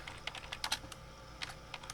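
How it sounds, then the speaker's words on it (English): Typing on a computer keyboard, a quick run of close, faint key clicks in an irregular rhythm with no talking. "Typing is not my friend here."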